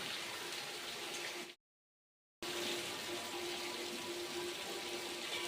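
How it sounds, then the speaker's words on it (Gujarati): Steady rain falling outdoors in a village, a dense broadband hiss that cuts out briefly in the middle and then returns at the same level, with no voices. "देख रहे हो हमारे पीछे बारिश चालू हो गई है."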